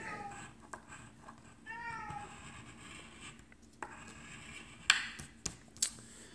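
A domestic cat meows in a short drawn-out call, fairly close but not loud, over a steady low room hum, with a few sharp clicks and taps afterward.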